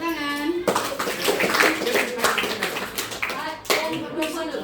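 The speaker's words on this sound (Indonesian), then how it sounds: "Oke, beri tepuk tangan." Brief bursts of clapping from a school class during a guidance counseling session, coming in short rounds between stretches of children's and adults' voices, fairly close and moderate in volume.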